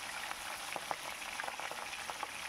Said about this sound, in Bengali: খুব সুন্দর করে ভেজে নিচ্ছি আমি পাবদা মাছগুলো।